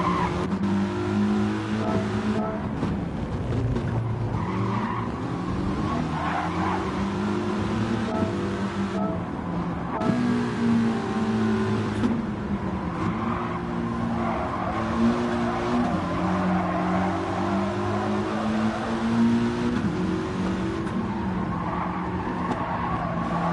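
A race car in Gran Turismo 7 roars steadily as its engine pitch rises and falls through gear changes, with tires squealing and skidding through corners, loud and continuous with no talk.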